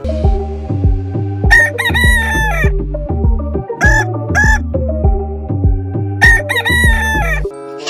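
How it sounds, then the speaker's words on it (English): A rooster crows repeatedly at close range during a cleaning game, loud strained calls with rising and falling harmonics coming in several bursts over a steady throbbing background hum. "Oh, this one is a rooster."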